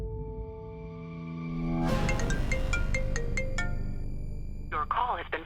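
A phone line rings through a series of repeated electronic tones before the call drops to voicemail, followed by a brief snatch of a voice at the end.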